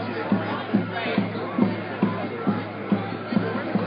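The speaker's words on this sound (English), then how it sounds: "Excellent crowd out here today." Outdoor crowd at an Occupy protest rally, a steady murmur of many voices with a regular low thumping pulse running under the chatter.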